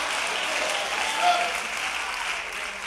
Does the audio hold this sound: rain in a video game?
no